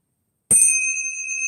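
A small bell is struck once, giving a clear, bright metallic ding with a short attack that rings on as sustained high tones, heard up close and alone.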